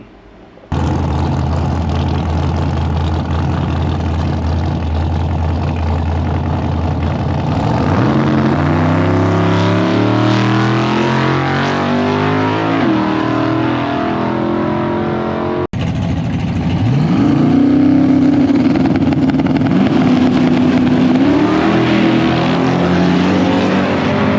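A race car on qualifying passes roars loud and close, its engine climbing in pitch through hard acceleration. The sound cuts off briefly, then a second pass comes in with a strong, rising engine note.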